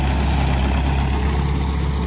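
Heavy tractor-style grass mower engine running steadily at a durian orchard after rain, a loud continuous low rumble with no talk.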